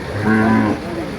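A cow at a cattle market gives one short, loud, close moo lasting under a second, with faint background noise around it.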